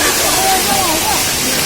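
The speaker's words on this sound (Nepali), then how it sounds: "माथिबाट आइरहेको झरना त्यहाँ हो" The Jhor waterfall near Kathmandu roars in a loud, steady rush of falling water close by, with a voice speaking faintly beneath the noise.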